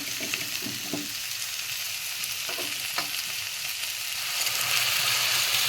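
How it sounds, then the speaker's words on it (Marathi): Chicken already fried in oil for a Konkani-style chicken rassa sizzles steadily as a little hot water is poured in, a continuous close hiss that grows slightly louder toward the end, with no voices. "आता मी याच्यामध्ये गरम पाणी घालून घेते"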